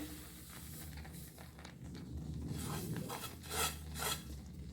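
Ghee-roasted semolina for laddu is tipped into a pan and stirred, giving a soft gritty rasping and rubbing with faint hissing that grows louder in a few scraping surges.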